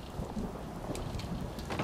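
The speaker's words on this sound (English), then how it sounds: "Ah, it's raining on the evening of the 4th of July." Steady rain falls in Fallout 4 on an in-game Fourth of July evening, a constant soft wash of drops with a faint low rumble of thunder underneath, at moderate level with no talking.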